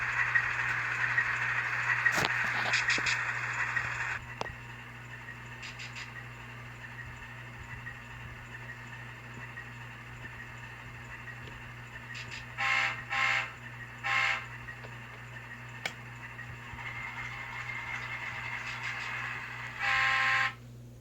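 Model train fitted with a Soundtraxx Econami sound decoder, a steady electronic engine drone with a low hum underneath, broken by several short, loud horn blasts as it throttles up on the layout.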